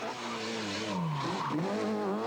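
A Seat Ibiza Kit-Car rally car, a two-wheel-drive machine revving to 9000 rpm, screams at high revs during the Ypres Westhoeck Rally, its engine note rising and dipping through quick gear changes, loud and close, with no talking.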